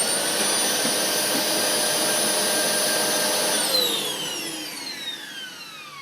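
A Maytag Windtunnel Globe vacuum cleaner with a single motor roars loudly and steadily up close. It is then switched off, and its high whine slides down in pitch as the motor winds to a stop.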